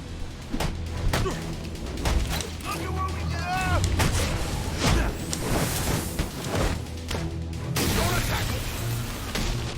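Sniper gunfire in the video game Batman: Arkham Origins, repeated sharp cracks and booming shots scattered through a dense, noisy game soundscape with mechanical clanks and a brief ringing effect.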